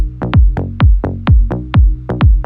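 Electronic kick drum sample from a tech house track, a series of deep, punchy booming thumps with falling pitch, repeating in a fast, slightly uneven rhythm, loud and alone.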